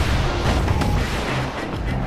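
Guns on a security skiff blast away in the video game Bastion: a dense, loud burst of booming fire fills the whole short stretch without pause or speech.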